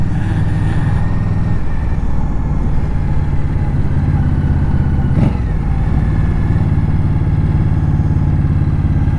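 A 2018 Indian Scout Bobber ABS motorcycle engine, heard up close and loud, rumbles steadily through a downshift, with one brief sharp spike partway through.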